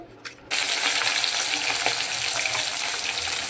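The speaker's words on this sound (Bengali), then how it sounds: "মাছটা আমি ভেজে নিচ্ছি আলাদা করে।" Pieces of bhetki fish dropped into hot oil in a pan: after a quiet moment and a soft clink, a loud, steady sizzle bursts in and holds evenly, close and alone.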